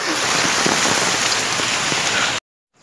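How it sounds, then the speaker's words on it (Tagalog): Heavy rain pours in a storm with strong wind, a dense, loud, steady hiss of drops drumming on a surface that cuts off abruptly near the end, leaving silence. "super ng lakas ng hangin at ulan"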